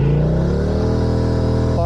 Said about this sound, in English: I'm going to bring the revs up.